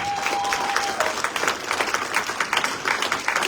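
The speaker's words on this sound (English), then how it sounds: "Please applaud Donovan Snyder of Jackson College" Applause from an awards ceremony audience as an honoree is called up, full and steady clapping with a brief whistle-like tone early on, carrying on without speech.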